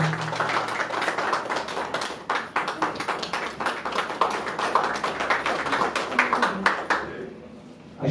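Audience at a theatre award ceremony clapping, a dense, steady round of applause from many hands nearby that carries on for several seconds before thinning out and fading near the end.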